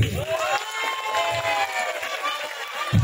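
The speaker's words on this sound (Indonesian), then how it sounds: "Beri aplaus sekali lagi." Audience applause and cheering from a crowd at an Islamic school quiz competition, a steady wash of claps and voices at moderate loudness.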